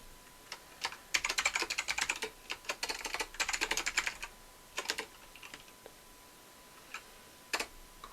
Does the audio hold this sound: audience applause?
no